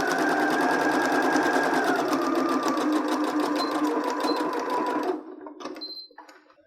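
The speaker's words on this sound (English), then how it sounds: "Raise your presser foot and go to the opposite end and sew again about 2 to 3 inches." Sewing machine stitching a fabric face mask, a steady rapid mechanical whir running close and loud for about five seconds, then stopping, followed by a few faint handling clicks.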